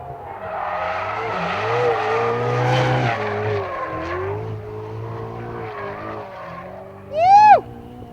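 A new Ferrari 488 is driven hard, engine revving and rising with sustained tire squeal through turns, ending with a sharp, loud screech of skidding tires close by.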